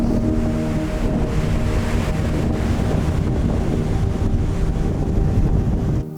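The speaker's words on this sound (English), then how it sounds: "Seeing these rock formations and waves that come crashing by" Waves crashing against rock formations on the Sea of Japan coast at Echizen in Fukui, heard as a loud, continuous roar of surf with heavy wind rumble on the microphone and no voices.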